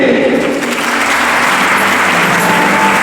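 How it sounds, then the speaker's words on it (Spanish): A gala audience at a swimming federation awards ceremony applauds loudly and continuously, a dense, close wash of clapping that holds at full strength without pause. "vamos a recibir con un fuerte aplauso a Jesús de la Fuente"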